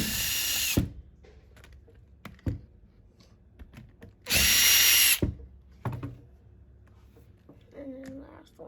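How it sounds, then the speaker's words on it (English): A power drill removes screws from a lawnmower in short bursts, two long loud whirs and several brief clicks and taps between them, close by with quiet gaps. "now I'm gonna get these screws off"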